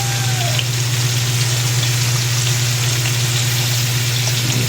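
Potatoes frying in hot oil at a barangay fiesta cookout, a steady close sizzle and crackle filling the whole stretch with a low constant hum beneath it.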